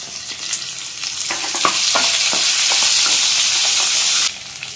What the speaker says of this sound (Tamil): இந்த முந்திரி கொஞ்சம் ஒரு பொன்னிறமானதும், இது கூட ஒரு 2 வெங்காயம் சேர்த்துக்கலாங்க